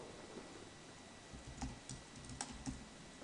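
Quiet clicks of keys being typed on a computer keyboard, a few sparse taps in an otherwise hushed room.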